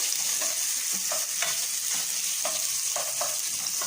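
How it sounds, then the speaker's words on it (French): Onions frying and being stirred in a pot for a smoked chicken broth: a steady broadband sizzle with a series of scraping stirs coming roughly every half second, fairly close and without any talk. "Vous mettez vos oignons. Vous remuez."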